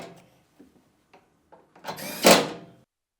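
A Whirlpool Maytag washer door swung shut after a hinge cap bushing replacement, heard as a few faint knocks and clicks before one firm, louder thud-and-latch closing near the end.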